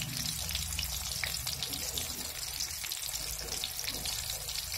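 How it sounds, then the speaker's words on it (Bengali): Fish frying in hot oil in a wok, turned up to a high flame for a home curry recipe, giving a steady, loud crackling hiss that runs the whole time with no pauses. "এই যে দেখুন মাছ ভাজা হচ্ছে।"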